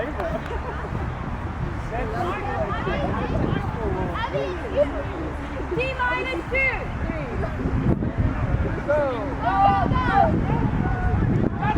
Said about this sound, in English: Wind is coming and going from a light breeze to something quite gusty.